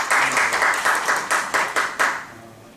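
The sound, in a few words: audience applauding for a lecturer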